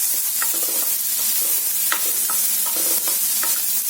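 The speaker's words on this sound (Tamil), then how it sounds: "மிளகாய் வத்தல் சேர்த்து நல்லா வதக்கிக்கலாம்." Dried red chillies sautéed in a pan for a ponnanganni greens dal, a continuous close sizzle broken by regular stirring clicks and scrapes, no voices.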